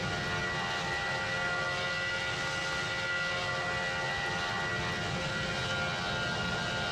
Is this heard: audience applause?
no